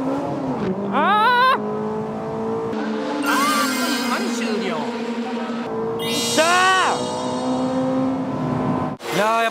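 A Toyota Altezza race car laps a circuit in a 2005 race, its engine note climbing and dropping through repeated gear changes up close, with a muffled voice muttering over the engine.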